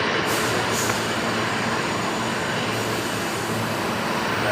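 A Qantas Boeing 737 at Brisbane Airport at night gives a steady, broad jet roar that fills the whole stretch without a break or any voices.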